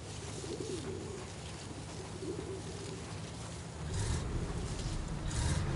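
Pigeons coo softly at a pigeon coop in a video game, low repeated burbling calls heard faintly under steady game background noise.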